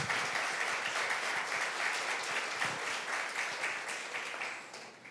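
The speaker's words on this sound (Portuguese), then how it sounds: "Aplauda o Senhor Jesus," A church congregation applauds in a full, continuous wash of clapping that carries on for several seconds and then gradually tapers off.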